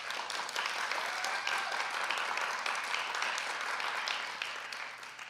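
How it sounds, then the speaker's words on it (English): Assembly audience applauding together in a hall, a dense sustained wash of many hands clapping that holds steady for several seconds before beginning to thin out. "Let's try applause."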